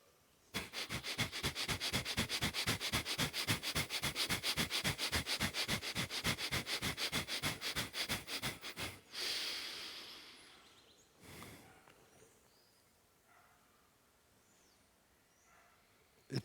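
Rapid rhythmic breathing from a Kundalini yoga exercise: about forty quick, forceful nasal breaths in steady succession, close and loud, followed by a long exhale and quieter breaths.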